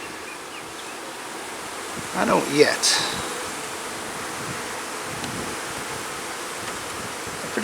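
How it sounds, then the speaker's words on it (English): A caught swarm of calm honey bees in a hive gives a low, steady, close hum throughout, with a brief voice and some handling noise partway through. "They're pretty calm bees"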